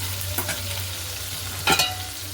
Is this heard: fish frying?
yes